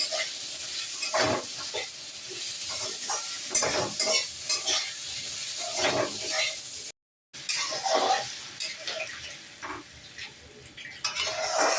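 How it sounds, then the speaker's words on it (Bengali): Green chilli fries in hot oil with turmeric and chilli powder, sizzling softly while being stirred, with repeated spoon scrapes and clinks against the pan and a brief gap midway. "অল্প একটু লঙ্কা, এটা দিয়ে একটু ভাজবো।"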